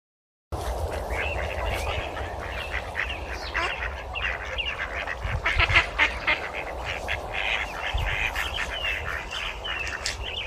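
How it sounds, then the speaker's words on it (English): Ducks quack repeatedly at a water animals listening game, a busy run of nasal calls over steady outdoor background noise, moderately loud throughout. "Yes, it's a duck."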